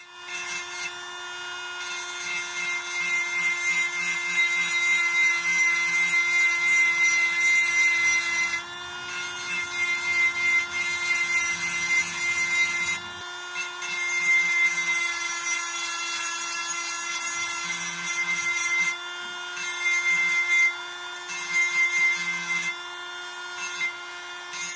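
Rotary tool with diamond bits engraving a glass vase, a continuous high-pitched whine with gritty scraping as the bit grinds the surface, dipping briefly in a few short pauses, close and without speech.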